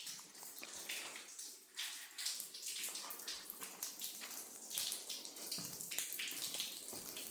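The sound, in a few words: water flushing through hen house drinking lines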